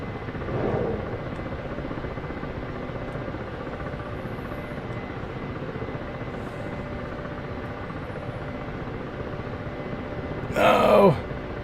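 A KA-50 or AH-64D Apache helicopter in a video game, its rotor making a steady, dense drone throughout, with brief voice sounds rising over it near the start and the end.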